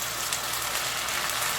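Tomatoes dropped into a pan of lightly browned onions give a steady, dense sizzle of frying, constant and close, with no voices.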